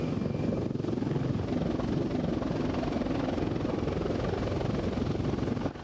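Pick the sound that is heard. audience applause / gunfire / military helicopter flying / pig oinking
military helicopter flying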